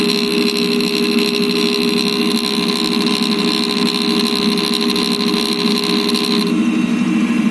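A valve refacing grinder wheel grinding an engine valve, a loud steady high-pitched whine and whir that runs unbroken, then shifts tone near the end; no talk.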